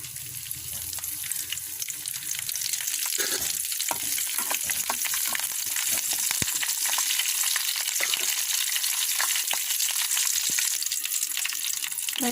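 Curry leaves, dried red chillies and tempering seeds frying in oil in a pan, a close, continuous crackling sizzle with sharp pops throughout, starting with a brief low rumble.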